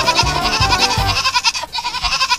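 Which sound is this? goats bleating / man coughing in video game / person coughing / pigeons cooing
goats bleating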